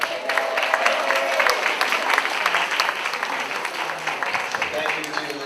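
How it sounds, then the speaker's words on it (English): An audience at a school superintendent candidate presentation gives Marcia Bonhart a round of applause, dense continuous clapping from a roomful of people that holds steady and then gradually thins. "Could we hear a round of applause for Marcia Bonhart?"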